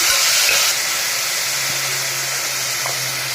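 Mustard seeds, chana dal and turmeric sautéing in a pan for Tamil avarakkai kuzhambu, giving a steady, close sizzling hiss that holds evenly throughout, with a faint low hum underneath.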